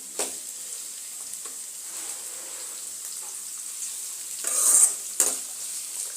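Onions sauté in a hot pan of oil for prawn curry, giving a steady quiet sizzle, with a couple of louder spatula scrapes and clinks near the end.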